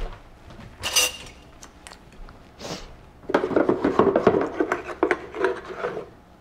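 A spoon clinks and scrapes against a dish in a kitchen, with a couple of isolated knocks followed by a busy run of rapid scraping strokes and light clinks, close and fairly loud.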